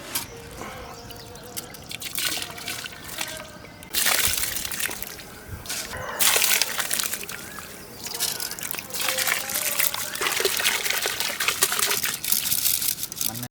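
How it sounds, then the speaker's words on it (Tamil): Soaked rice poured into water in a cooking pot, wet splashing and trickling that comes in bursts and swells louder toward the end, with no talk. "10 நிமிஷம் ஊற வச்ச அரிசி போட்டுக்கிறோம்பா."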